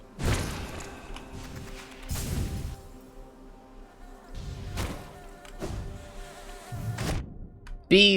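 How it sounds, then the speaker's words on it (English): Buzzing bees in the Hollow Knight video game at Godhome, a steady insect drone broken by several heavy thumps from in-game hits, with a brief bright chime at the end. "Bees, out of my way"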